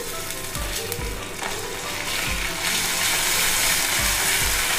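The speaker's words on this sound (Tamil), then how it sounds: "இந்த டைமில் நம்ம வந்து இஞ்சி பூண்டு பேஸ்ட்டு சேர்த்துடலாம்." Ginger garlic paste frying with onions in a pan gives a continuous close sizzle, punctuated by regular low thumps and scrapes of stirring, the hiss growing louder in the second half.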